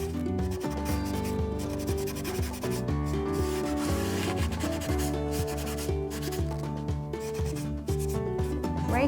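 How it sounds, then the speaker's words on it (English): Sandpaper rubs over furniture painted with Fusion Mineral Paint to wet distress it, a close, continuous scratchy scrubbing in quick back-and-forth strokes, heard over background music. "can also use a sandpaper if you like. And I'm just going to go across those areas"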